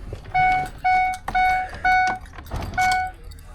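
An old, dirty 6.0 diesel engine is cranked with its keys: five repeated chiming alert tones ring out in a regular pattern over low starter and engine rumble, loud and close, with no speech.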